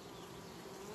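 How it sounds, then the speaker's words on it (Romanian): Dense, steady hum of many honeybees inside a hive colony whose bees cover about thirteen frames, a close, continuous drone with no voices. "Iată, avem albinuțe."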